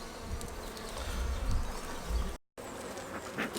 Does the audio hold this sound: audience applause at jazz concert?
no